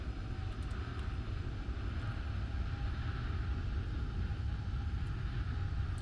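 Steady airplane engine drone in the Roblox flight game Flightline during a landing approach with flaps extended, a continuous low hum that holds level throughout with no talking.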